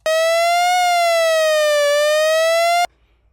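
A subtractive synthesizer with an LFO sweeping its pitch gives a loud, steady wailing tone. It glides slowly up and down like a police siren, rich in buzzy harmonics, and runs for nearly three seconds alone before cutting off abruptly.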